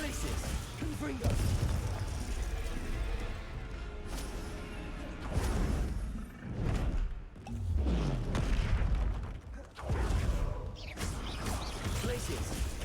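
Glacius and Confringo spells cast in the Hogwarts Legacy video game, producing repeated booms, crashes and whooshing bursts in rapid succession, loud and dense, with brief dips between volleys.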